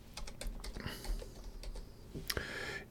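JavaScript code is typed on a computer keyboard, a close, brisk patter of irregular key clicks with a few louder strokes toward the end and no talking.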